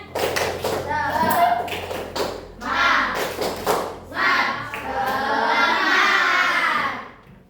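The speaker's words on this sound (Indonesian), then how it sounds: "tepuk semangat." Children perform a rhythmic spirit clap in a classroom, bursts of patterned claps mixed with their chanting voices, fairly close and lively, with a pause before a final longer stretch.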